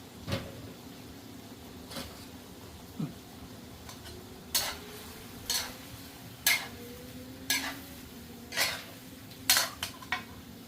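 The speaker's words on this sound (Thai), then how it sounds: "ผัดกระเพราลงไปเลยนะครับ" Beef stir-fried with holy basil in a pan, a spatula scraping and clanking against the metal in roughly a dozen sharp, evenly spaced strokes over a low, steady sizzle.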